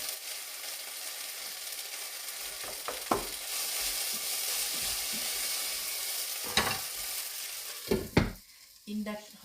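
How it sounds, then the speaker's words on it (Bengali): Gluten-free pasta cooking in a pot on an induction cooktop at home, giving a soft continuous sizzling hiss with a few sharp scraping and stirring clatters near the end, heard up close and fairly quiet. "যে পাস্তাটা রান্না করছি এটা হচ্ছে গ্লুটেন ফ্রি পাস্তা"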